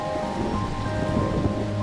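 Heavy monsoon rain pours down in a dense, continuous hiss with a low rumbling undertone, steady and loud throughout the short stretch, with no voices.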